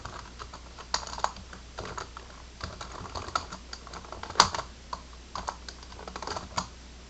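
Fingers tap out a name on a computer keyboard in short, uneven bursts of light clicks with brief pauses, close and clear against a quiet room.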